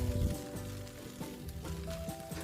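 Veg chowmein with wet noodles sizzles and crackles in plenty of oil over a high flame, a soft steady frying hiss with occasional clinks of stirring.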